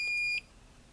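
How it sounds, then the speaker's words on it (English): A SUPCO VG640D vacuum gauge in high alarm state sounds a single steady, piercing electronic beep tone that holds for about a third of a second and then cuts off, leaving quiet background. "Notice that the VG640D is in high alarm condition, indicated by the 85 dB audible alarm and red flashing display."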